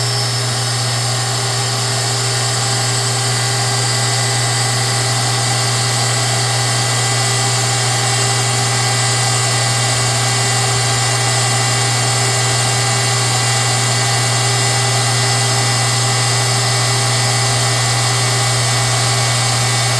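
A lathe with live tooling machines a joint collar, giving a steady, loud mechanical hum and drone that holds without pause, close up and alone.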